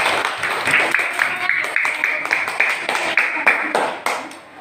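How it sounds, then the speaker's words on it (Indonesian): A classroom of pupils claps for a classmate, a quick, loud patter of many hands that tapers off toward the end. "tepuk tangan untuk Rizky"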